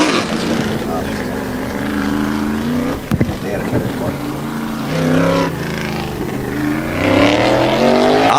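A tour-type modified race car roars around the Wall Stadium speedway on a qualifying lap during Turkey Derby weekend, its engine loud and sustained with rising revs, while a track announcer talks over it.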